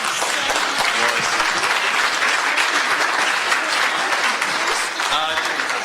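An audience gives a panel on media and the progressive movement a full round of applause, loud and dense clapping sustained throughout, with some speech faintly mixed in.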